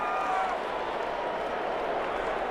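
Steady roar of a stadium crowd in Madden 21 at a Minnesota Vikings versus Detroit Lions game, a continuous, even wash of noise with no distinct cheers.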